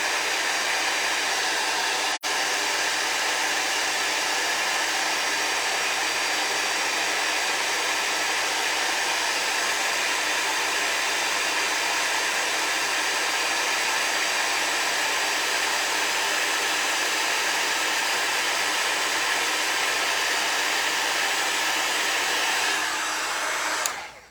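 A heat tool blows steadily and loudly while heat-setting gold embossing powder, a constant hair-dryer-like rushing hiss that holds at one level until it cuts off at the end.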